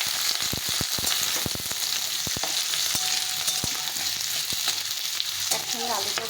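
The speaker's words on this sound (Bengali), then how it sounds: "সব কিছু ভালো করে ভেজে নিতে হবে।" Potato pieces frying with onion, garlic, green chili and ginger for khichuri, a steady crackling sizzle punctuated by many crisp spatula clicks and scrapes as the mix is stirred.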